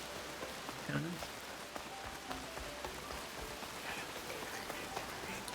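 Rain falls in the video game Horizon Forbidden West as a faint, steady patter and hiss with scattered small drip ticks, heard quietly and alone.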